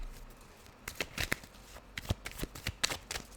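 Tarot cards being shuffled in quick papery riffles and slaps, several short bursts close by, with a faint fan hum underneath.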